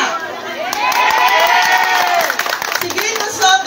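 A crowd at an outdoor campaign rally for Mayor Vico Sotto in Pasig cheers and claps, a loud swelling roar of voices and applause with shouting mixed in, briefly easing near the end.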